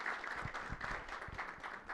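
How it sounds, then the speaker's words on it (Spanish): Conference audience applauding a presenter, a steady wash of many hands clapping close by with no speech over it. "El aplauso para Josefina"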